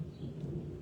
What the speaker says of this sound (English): do you hear the thunder? There's like a crazy storm going on right now outside my house.